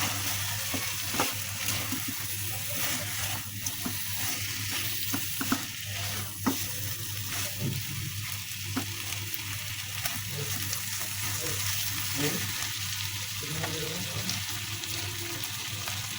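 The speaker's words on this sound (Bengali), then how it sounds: "এগুলো দিয়ে আমি এখন একটু নেড়ে দেবো" Prawns stirred in a pan while cooking prawn malaikari, a steady loud sizzle of frying with frequent scraping and tapping of the spatula throughout, close up and without voices.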